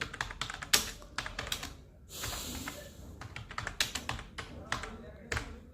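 Quick irregular keystrokes clatter on a computer keyboard close up while a form is filled in, with a short pause midway and a voice speaking quietly in the background.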